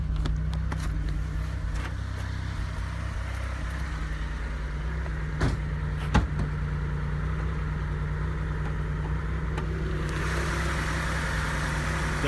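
A Mitsubishi 3000GT's 3-liter double overhead cam V6 idles steadily with a low, even, slightly rough rumble throughout, a couple of brief clicks partway through, no voices.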